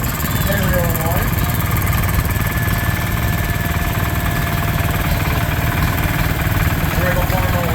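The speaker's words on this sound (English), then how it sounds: "We have a John Deere B. This is 1940." A 1940 John Deere B tractor engine runs steadily at a show, a continuous loud rumbling chug heard throughout under a voice speaking over a public address.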